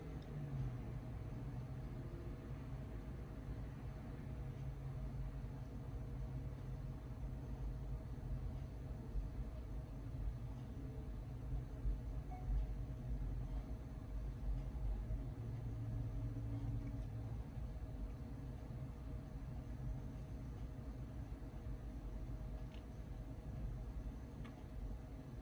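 A hard drive spins steadily while Mac OS X 10.0 Cheetah installs on a 2001-era Mac, giving a constant low hum and whir with faint mechanical rumble that holds for the whole stretch.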